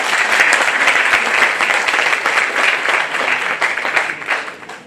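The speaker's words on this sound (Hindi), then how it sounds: "इनके लिए ताली बजाइए।" A lecture audience applauds loudly and continuously, dense clapping from many hands filling the hall for about five seconds before tapering off at the end.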